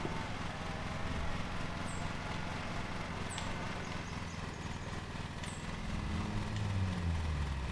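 Lawn mower engine in Lawn Mowing Simulator, played on Xbox Series X, drones steadily at a distance beneath a wash of outdoor ambience, with a few faint high chirps on top and the engine swelling louder toward the end.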